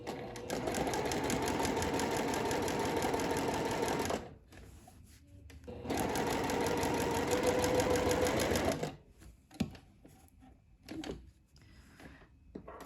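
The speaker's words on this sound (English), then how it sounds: "now we want to sew right along the edge of that pocket" A sewing machine sews along the edge of a side-seam pocket on a garment made with French seams, running in two loud, steady bursts of rapid needle chatter, each about four seconds long, with quiet handling noises between and after them.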